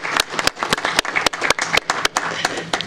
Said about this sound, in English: I think a big round of applause for everyone mentioned there